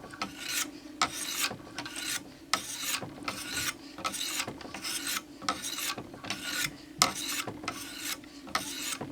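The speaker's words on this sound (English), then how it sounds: "I've taken this blade all the way up to the 1000 grit stones" Knife blade drawn repeatedly across Wicked Edge sharpening stones, a steady rhythm of close, raspy strokes back and forth with no talking.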